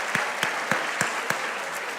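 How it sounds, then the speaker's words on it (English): An audience at a high school academic awards ceremony gives a round of applause, a soft steady patter of clapping with several sharper individual claps standing out at regular intervals. "yes, round of applause for them."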